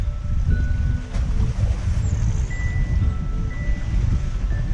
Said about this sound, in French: il y a un peu de houle ce matin, c'est pas grand chose, mais des fois les vagues remontent un tout petit peu